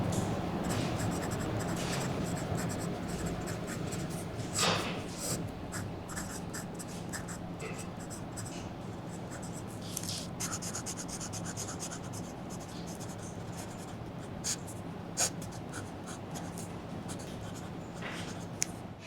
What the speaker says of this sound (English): you can hear that audible feedback from the paper as you're writing with the nib to the paper